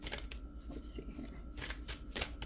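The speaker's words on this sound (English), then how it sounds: "Let me just give these a good shuffle to get them all good." Cards being shuffled close by, a quick riffling flutter followed by a few more bursts of papery snapping and rustling.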